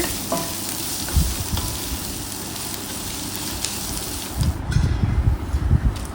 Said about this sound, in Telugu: ఆ తర్వాత అందులో ముందుగా కట్ చేసి పెట్టుకున్న ఆనియన్స్ వేసి శుభ్రంగా కలుపుకో